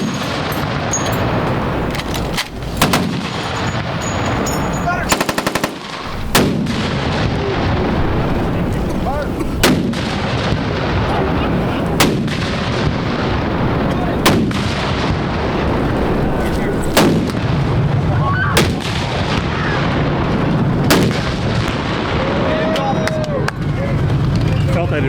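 A replica WWII tank gun fires several heavy, booming shots at uneven intervals, loud and close over a rumbling engine, with people talking between the blasts.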